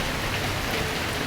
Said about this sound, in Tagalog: At dito naman po ay walang humpay talaga ang ulan.